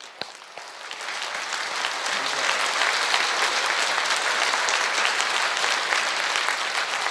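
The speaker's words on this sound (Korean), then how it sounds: "박수 한번 하세요. 박수." A large audience at a ceremony breaks into sustained applause, a dense clapping that builds quickly and holds steady for several seconds.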